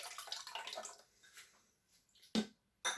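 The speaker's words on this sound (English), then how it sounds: "we have 335 mils of cold water going in" Cold water for vegan mozzarella trickles and splashes into a container, fading to quiet, then two short louder splashes near the end.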